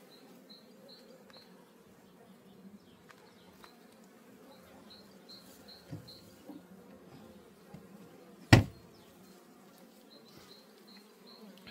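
Honey bees buzz continuously inside an open hive during queen rearing, a low steady drone with scattered closer wing whines and one sharp knock partway through.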